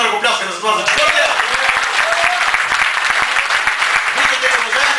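Applause from a church congregation during a sermon, a steady wash of many hands clapping that fills the space, loud and sustained throughout with a voice faintly underneath.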